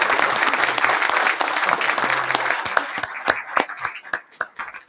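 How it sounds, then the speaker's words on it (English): Applause from a town meeting audience for candidates on a candidates' night, loud and steady at first, then thinning into scattered individual claps as it dies down. "And how about a round of applause for all of our candidates?"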